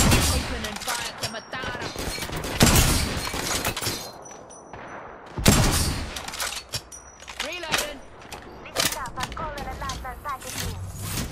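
Bursts of rapid gunfire in the battle royale game Apex Legends, loud overlapping volleys and cracks with players talking over the shooting.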